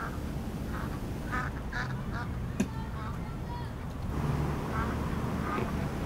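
Trained duck quacking in the Dealership game, several short quacks over a steady noisy background, with a voice talking at a low level underneath.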